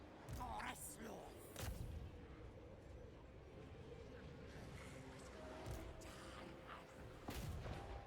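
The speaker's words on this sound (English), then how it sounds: "Fire at the big ones, I guess, with your ballista." Ballista bolts loosing in a Total War: Warhammer 3 battle, heavy booming thumps at irregular intervals over a constant rumbling battlefield din, with someone talking through much of it.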